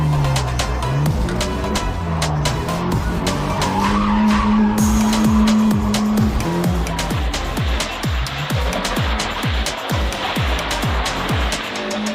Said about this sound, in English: then we can put it into a skid